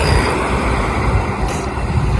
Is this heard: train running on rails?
yes